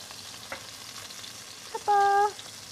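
A stir fry sizzles softly in a pan after being flipped, a low, steady crackling hiss, broken near the end by a brief clear electronic beep.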